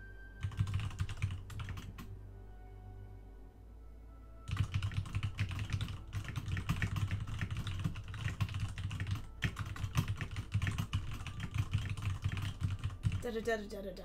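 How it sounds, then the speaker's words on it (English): Computer keyboard typing during a digital painting session in Photoshop, with dense rapid key clatter in long runs, broken by a short quiet pause, alongside a steady low hum. "Typing."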